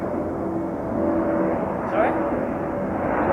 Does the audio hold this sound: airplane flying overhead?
yes